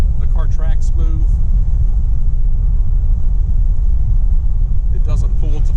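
A 1948 Packard Custom Eight cruises along a road, its steady low engine rumble and road roar constant throughout, with someone talking briefly near the start and again near the end.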